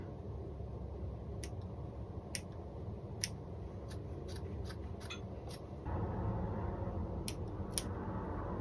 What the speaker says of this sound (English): In fact, we'll use our smaller scissors.